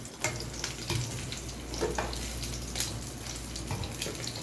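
Fish frying in hot oil in a pan, a dense close sizzle throughout with a few soft scrapes and clunks as it is turned over, no voices.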